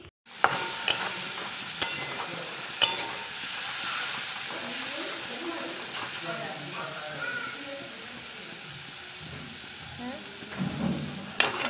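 Food frying in a wok gives a steady, loud sizzle with sharp utensil clicks and clatters throughout, while people talk over it.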